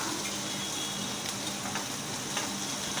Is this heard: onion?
yes